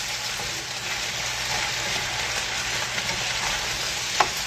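Potatoes and ramps frying in a pan, a steady close sizzle and crackle with a brief sharp clink near the end, no talk.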